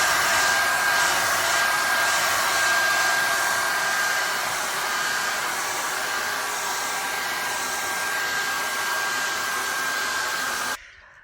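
A hair dryer blows steadily and loudly on freshly applied putty during a kitchen renovation, a continuous close whir with a faint high whine that cuts off abruptly at the end.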